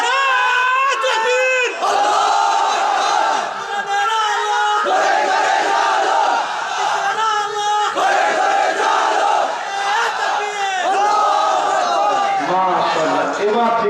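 A large crowd at an outdoor Islamic sermon gathering chants a takbir slogan in loud, sustained unison, rising and falling in repeated call-and-response phrases that fill the whole stretch.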